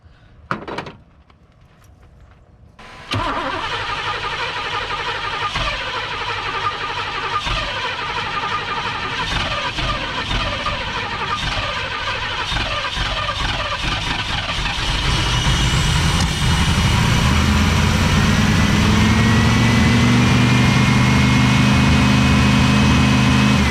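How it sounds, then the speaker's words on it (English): A few knocks, then a 1991 Firebird Trans Am V8, converted from TPI to carburetor, fires up and idles steadily for a long stretch, rumbling loudly and growing slightly louder toward the end. "Let's see if we get this thing to idle actually."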